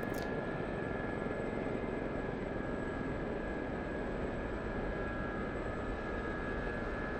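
An SA342 Gazelle helicopter lifts off and air taxis in the DCS simulator. It gives a steady, loud, broadband turbine and rotor roar with a faint high whine that holds unchanged throughout.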